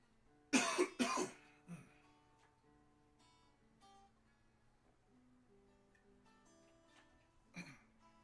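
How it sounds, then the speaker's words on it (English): A few sharp coughs close by, two loud bursts in quick succession, another softer one, then a single cough after a pause over quiet background. "This cough does not seem to want to quite go away."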